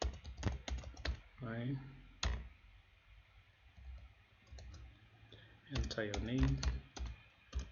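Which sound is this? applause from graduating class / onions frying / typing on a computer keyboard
typing on a computer keyboard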